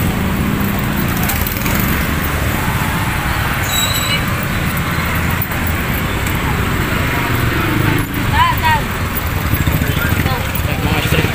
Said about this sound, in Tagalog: Ayan mga guys, traffic ngayon.